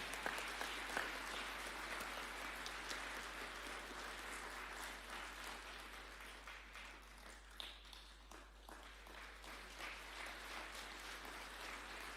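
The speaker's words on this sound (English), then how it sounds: "Another clap would be in order." Faint, distant applause at a ceremony conferring the rank of Senior Counsel, a steady wash of clapping that thins out toward the end, with a low steady hum underneath.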